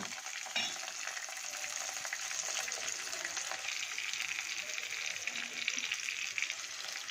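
Chopped onions sizzle and fry steadily in hot oil with bay leaves and dried red chillies for a South Indian chicken gravy, a dense continuous crackle with faint stirring, close and unbroken throughout, no talking.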